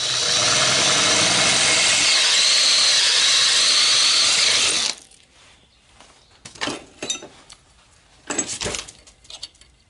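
A power drill boring through metal with a larger bit on a Citroën Traction 11B trunk hinge, loud steady whirring for about five seconds, then stopping, followed by a few short scraping and clunking handling sounds.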